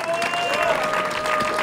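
A village square crowd at a farmers' festival applauds to welcome football coach Stefano Belle, dense steady clapping throughout, with a voice audible over it.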